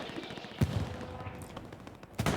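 Anti-tank fire aimed at a Panzer IV in the Hell Let Loose video game: two heavy booming shots a second and a half apart over a constant rumbling battle din, faint overall.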